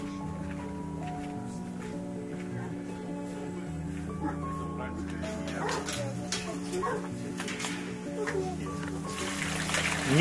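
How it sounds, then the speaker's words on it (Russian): A hunting pack dog in a remote Russian village barks and yips intermittently at moderate distance, mixed with whimpers, while people talk over it. "Собака загонная, стайная."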